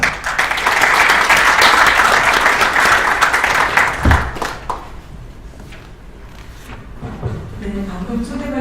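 A seminar audience at a defence research forum greets a professor with dense applause that fades after about four seconds, giving way to quieter room sounds and a voice beginning to speak.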